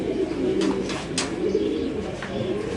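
House pigeons in a loft coo softly in repeated low, throaty calls against steady background noise.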